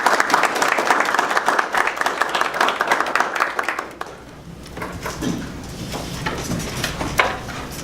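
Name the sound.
applause for new staff at a city council meeting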